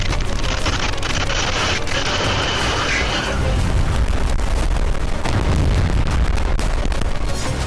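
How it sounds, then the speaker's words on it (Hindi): Explosions in Crimea: heavy, continuous rumbling blasts and booms, loud and dense, with crackling bursts layered over a low roar. "फिर क्रीमिया में जोरदार धमाके हुए।"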